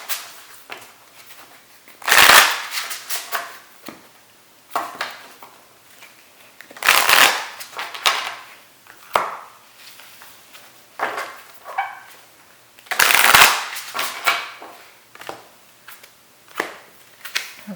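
Tarot cards are shuffled by hand in several loud riffling bursts spaced a few seconds apart, with softer handling taps and rustles between them and no talking.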